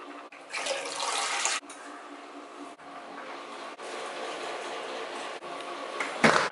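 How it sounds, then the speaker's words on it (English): A shower running, a steady broadband hiss of falling water that cuts in and out in several short stretches, close by and fairly loud. "I'm gonna take a shower first."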